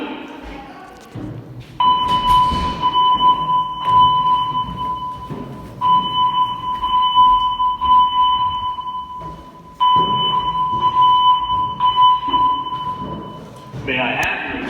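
A hotel fire alarm at the Doubletree in Niagara Falls sounds a loud, steady electronic tone in long stretches, broken by brief gaps, while a recorded voice announcement plays over it indoors.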